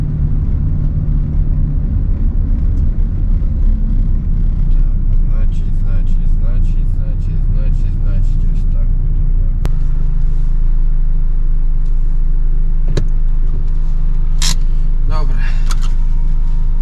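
A car climbing uphill, with a constant loud low engine and road rumble filling the interior throughout, a person talking over it.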